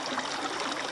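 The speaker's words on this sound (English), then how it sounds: "Our first creek crossing" Creek water flows steadily at a bushwalk crossing, a continuous broadband rushing and trickling close by with no voices.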